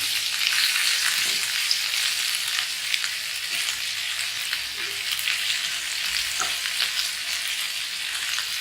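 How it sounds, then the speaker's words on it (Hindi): Spices roast in a pan over a low flame for a parwal dalna, giving a steady, even hiss at close range with a few soft stirring taps and no talking. "मसालों को तब तक भूनिए जब तक इसका कच्चापन ना चला जाए।"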